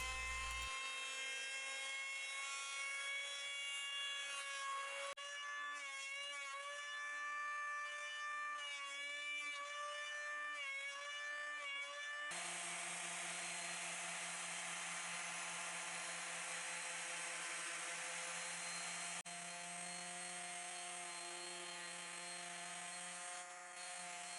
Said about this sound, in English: Until then it's the power hand planer and lots of sanding.